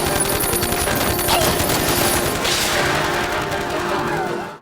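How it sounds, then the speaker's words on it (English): A magical Gatling gun in an anime fires in a continuous rapid burst, a dense, loud rattle of shots that runs throughout and cuts off abruptly at the end. "he's got magical Gatling guns on standby"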